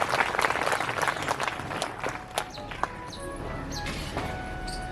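An audience at a Shrimad Bhagwat Katha religious discourse claps in a steady, dense wash, with a few sharper individual claps standing out toward the end and no talking over it.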